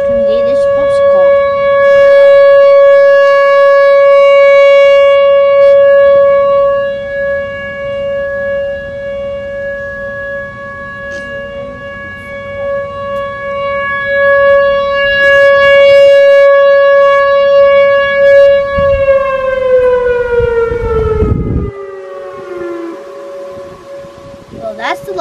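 A loud civil defense tornado siren wails in a long sustained tone with rich harmonics, then winds down and drops in pitch near the end, with faint background sounds and a voice briefly underneath.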